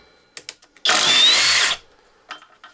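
Flex impact driver running at full speed setting 3, a single loud, steady high-pitched whir lasting about a second, preceded and followed by faint clicks and handling noise.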